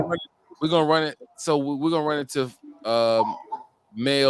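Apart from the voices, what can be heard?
None of the usual background noises is heard.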